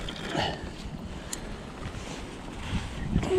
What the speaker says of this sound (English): Wind's picked up, the clouds are coming.